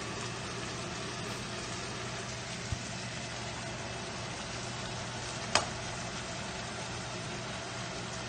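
Eggplant and bison meat sizzling steadily in a pan, a continuous frying hiss with a brief utensil clack partway through as the mix is stirred, close and alone without talk.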